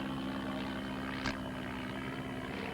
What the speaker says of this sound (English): Today we're very proudly showing you the de Havilland 82 Tiger Moth